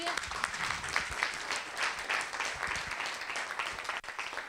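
A public forum audience applauds a sophomore honor student from Kelly High School, with steady, dense clapping that carries on without a break at moderate, slightly distant loudness.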